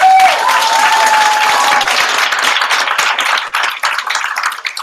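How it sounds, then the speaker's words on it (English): Audience applause after the first pitch at a 2016 hackathon night, a dense burst of clapping from a crowd that starts loud and gradually thins out over about five seconds. "If you like the first pitch, round of applause"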